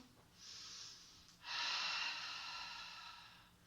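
Deep breaths during a Pilates exercise, heard alone and close: a short airy inhale followed by a longer, stronger exhale that slowly fades.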